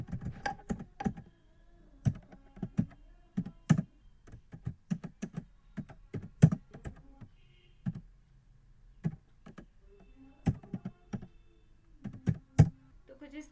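Typing a name on a computer keyboard in MS Word, irregular bursts of crisp close key clicks with short pauses between words and a few louder key presses.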